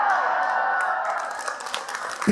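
An audience claps during an Indonesian sermon by Ustadz Hilman Fauzi, a steady close patter of hands that holds for a couple of seconds and then thins out.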